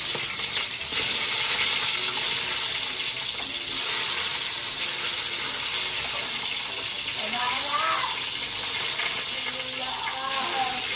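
Onions sautéing in oil in a pan, a continuous bright sizzle running throughout, with occasional stirring clatter and a person talking faintly in the background.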